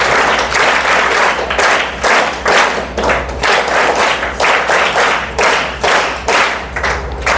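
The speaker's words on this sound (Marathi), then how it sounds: "टाळ्या वाजवा त्याच्यासाठी, प्रयत्न केलाय त्याने" Audience applause for a student at a school reading-inspiration day lecture, loud sustained clapping from a crowd filling the hall, surging in waves with dull thuds throughout and no talk over it.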